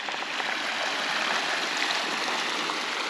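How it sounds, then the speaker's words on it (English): A big creek running low over exposed rocks gives off a steady, broad rushing and burbling that holds even throughout, close by and without any voices. "So this is the big creek I was talking about."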